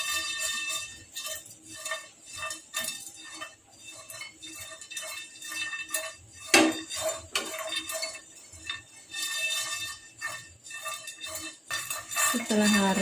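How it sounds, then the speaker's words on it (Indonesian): A metal utensil scrapes and clinks steadily against a pan while spices are stirred for Balinese shredded chicken rice, close and rhythmic, with a louder clatter near the end and no voices. "Kita aduk terus ya teman-teman, jangan sampai gosong."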